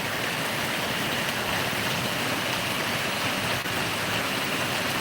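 Heavy pre-monsoon downpour pours over farmland with water rushing and flowing, a loud, dense, unbroken roar with no voices.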